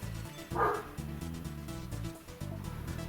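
A dog barks a few times in low, muffled woofs, with a brief higher yip, fairly faint against a background hum.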